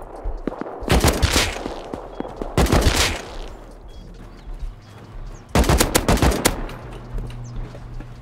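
AK rifle fire in the survival game Rust, heard as three loud bursts of rapid automatic shots with quieter gaps between them and a low hum underneath, no voices.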